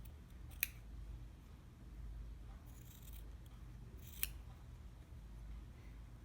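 Scissors snip fabric while trimming a tailored sleeve placket, giving two or three brief, faint, crisp cuts over a quiet room hum.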